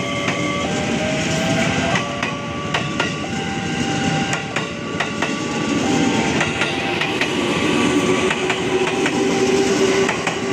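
A KRL commuter electric train on the Rangkasbitung line, a double set, passes level crossing JPL 148 near Tenjo station. It rolls by loudly and close with a rhythmic clickety-clack of wheels and occasional squealing tones.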